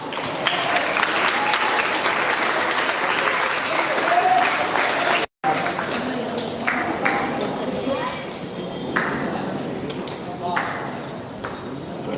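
An audience at a school annual sports day, at Springfields School, claps steadily through a photo session for the winning houses. The applause is sustained, with a few sharp pings and an announcer's voice over it.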